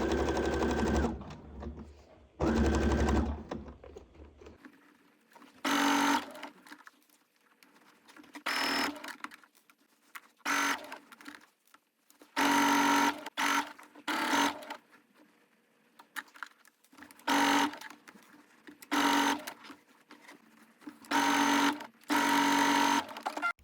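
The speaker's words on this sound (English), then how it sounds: "take it to the sewing machine and stitch it together" A sewing machine stitches a tennis racket bag in repeated bursts of loud mechanical whirring, each run lasting one to two seconds, separated by short pauses and quiet handling sounds.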